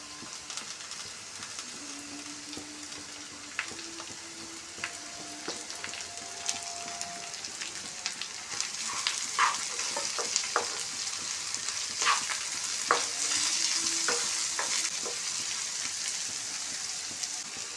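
Bitter gourd pieces frying with onions, green chillies and curry leaves, a steady soft sizzle like light rain with scattered pops and spatula clicks, growing busier midway through.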